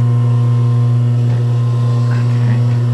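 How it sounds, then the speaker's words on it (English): An electric sewing machine runs continuously as it stitches down a piece of fabric. It gives a loud, steady motor hum with a faint rattle over the top for about three seconds, and no one speaks. "So let's turn on my machine and let's start sewing."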